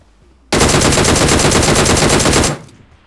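Sustained automatic gunfire from PUBG Mobile on the Rozhok map, a loud rapid burst of shots lasting about two seconds with an abrupt start and a short fading tail, no talk over it.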